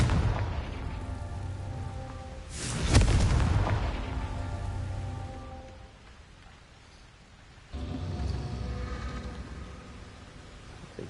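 The Confringo explosive spell in Hogwarts Legacy, heard as one sharp booming blast near the middle that decays into a noisy rumble, followed by a softer second burst later under a steady rain-like hiss.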